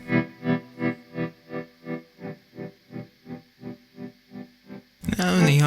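Guitar run through a Dr. Scientist Atmosphere reverb pedal, an expression pedal sweeping the resolution setting, giving a steady pulsing wash of about a dozen rhythmic swells before a voice cuts in at the end.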